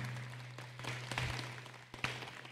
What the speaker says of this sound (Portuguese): Dá mais uma salva de palmas para ela.